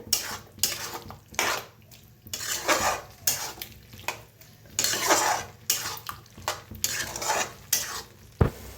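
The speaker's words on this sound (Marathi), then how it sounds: "छान मिक्स करून भाजूया." A spoon stirs and scrapes dry-roasting spice masala in a metal pan, giving rhythmic, fairly loud scraping strokes with light sizzle and clinks, repeating steadily throughout without any talk.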